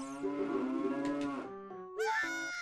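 Cows in The Legend of Zelda: Ocarina of Time let out loud, close, drawn-out moos, one long low call followed by a higher, brighter one after a brief pause, with no talking.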